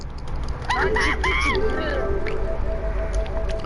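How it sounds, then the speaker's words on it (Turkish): A bird-call notification chime plays during a Smite match, a few quick warbling rising tones over game ambience while people talk. "Kuş sesi geliyor."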